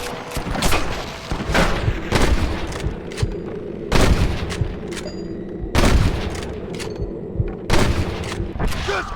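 Gunfire in the Red Dead Redemption video game, set in a Western shootout with deputies against rustlers: repeated sharp gunshots and booming rifle blasts crack in an irregular fusillade over a continuous rumbling game soundscape.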